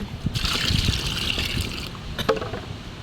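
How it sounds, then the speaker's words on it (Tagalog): Water trickles and splashes as it is poured into a small river fishing boat holding freshly netted live fish, a steady close pour lasting about a second and a half, then a few brief splashes and knocks. "Nilagyan po nating tubig para ano po hindi po mamatay yung isda."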